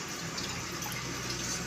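Water poured over bitter gourds in a plate, a soft, brief continuous splashing trickle, faint and close, with no talking.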